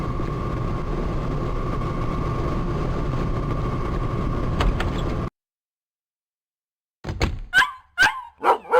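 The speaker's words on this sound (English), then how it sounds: "That's Shadow barking." Dog barking in the PS2 video game Dead to Rights, several sharp, loud barks in quick succession following a thump and a stretch of steady noisy game ambience, with a brief silent gap between.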